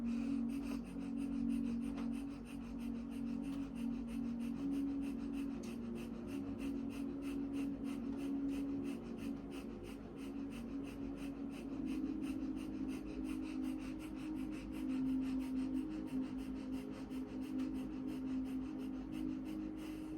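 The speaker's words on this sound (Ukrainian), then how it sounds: "Вдих правим носом, видих лівим." Slow, steady breathing in and out through one nostril during an energy-restoring breathing practice, soft and close, with a faint continuous tone underneath and no talk.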